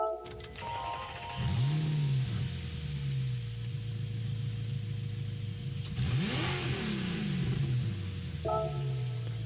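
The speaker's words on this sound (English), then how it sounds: "We'll listen to the startup sound" A 2007 Audi R8 with a 4.2 V8 fires up in Gran Turismo 7, a starter whir followed by a rising revving bark that settles to idle, then a second sharp blip of the throttle, loud and alone.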